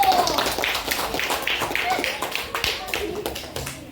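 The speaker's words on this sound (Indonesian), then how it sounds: "Tepuk tangan dong buat kelompok aku." A group of children clapping in a fast, steady rhythm, with excited voices chattering over the applause.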